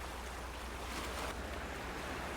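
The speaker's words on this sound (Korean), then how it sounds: "파도도 제법 거칠어 보이는데요." Rough sea waves break along a rocky coast on a chilly spring day, a dense, constant roar of surf with some wind buffeting, heard without any voices.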